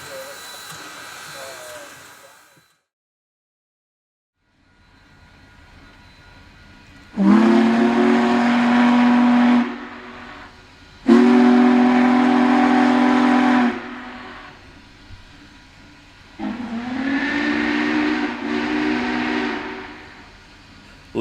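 Union Pacific Big Boy 4014 steam locomotive leaving tiny Granger, Wyoming, sounds three long, loud steam whistle blasts after a quiet pause, each a rich chord with a low rumble of the engine beneath.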